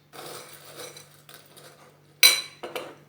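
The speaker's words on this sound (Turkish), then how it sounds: "İlk önce boş bir kavanozumuzun içine biraz sarımsak atıyoruz." Garlic dropped into an empty glass jar, a soft rustle followed by two sharp, close clinks of cloves hitting the glass, with a faint steady hum underneath.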